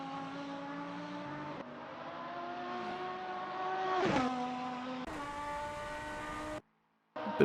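The number 44 McLaren and number 24 Lamborghini race cars drive in a steady, droning engine whine that shifts pitch as they change gear, with one brief surge in the middle and a sudden cut near the end.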